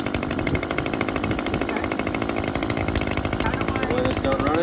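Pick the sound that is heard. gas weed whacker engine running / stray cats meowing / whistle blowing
gas weed whacker engine running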